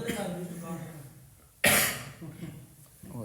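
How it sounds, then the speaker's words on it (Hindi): During a spoken religious talk, an audience member lets out one sharp, loud cough between stretches of the speaker's voice, with a softer throat sound near the end. "इतनी खांसी क्यों चल रही है आप लोग को?"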